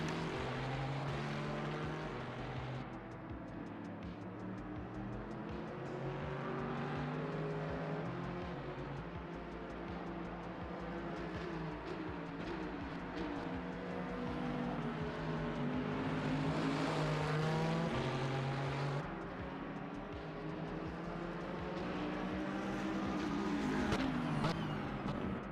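BMW M4 race car on worn tires at the 2024 6 Hours of Daytona, its engine droning steadily and loud throughout with rising and falling pitch, no talk over it.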